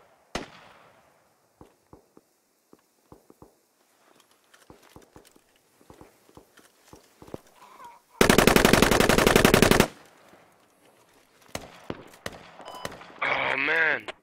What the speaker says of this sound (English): Someone's suppressing fire.